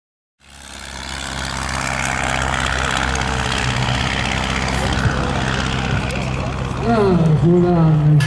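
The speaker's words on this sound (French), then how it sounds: "voilà un avion qui est très loin" A propeller airplane flies at the 2012 Lens-Bénifontaine air show, its engine drone rising from silence and holding steady and loud throughout, with a crowd murmuring beneath and a voice briefly near the end.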